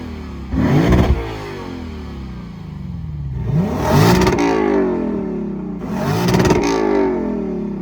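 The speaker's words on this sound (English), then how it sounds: "Turns out the LC500 sounds infinitely better with the same engine." A Lexus LC500 V8 engine heard from outside revs hard three times, each burst rising to a snarling roar and falling back to a rumbling idle.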